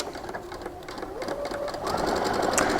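A sewing machine back stitches along a folded fabric edge, a close, steady rapid needle rattle that grows slightly louder and busier toward the end.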